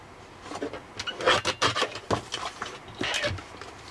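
A small paper trimmer slices paper for a handmade list book, making a run of short, close rasping strokes in quick succession.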